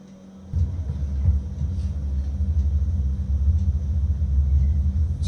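Deep, booming bass from a horror film soundtrack fills the room through a soundbar, a sustained low rumble that swells in after a quiet start and holds at a steady, heavy level with faint higher accents.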